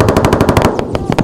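Rapid bursts of machine-gun fire from combat footage near a village, a close, loud string of evenly spaced shots that breaks off briefly and resumes with a few more rounds.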